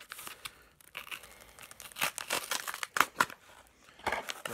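Mail packaging, double-wrapped, is sliced open and torn apart, giving bursts of ripping and crinkling at close range that grow louder and more frequent toward the end, with no talking.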